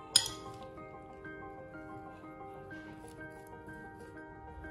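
Trio capsicum salad being tossed with dressing in a bowl: a sharp clink of a utensil against the bowl at the start, then soft quiet mixing sounds with faint background tones.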